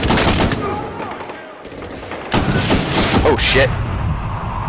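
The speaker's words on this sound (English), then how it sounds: "He just hit me in the face with a rocket" Loud gunfire and explosions fill a Medal of Honor Warfighter firefight, with a sharp blast as a rocket strikes the player. A brief dip is followed by renewed heavy noise, and a man exclaims briefly.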